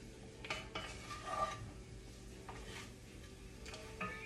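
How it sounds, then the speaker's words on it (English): Tomatoes and shrimp are stirred in a pan, giving soft scraping and light clinks of a utensil against the pan, quiet and close with faint cooking noise underneath and no talking. "Just give this a stir."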